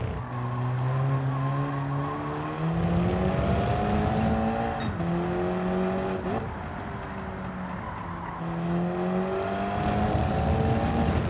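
A race car engine in Gran Turismo 7 holding third gear, loud and close, with rising revs, brief shift dips and tire squeal over a steady roar.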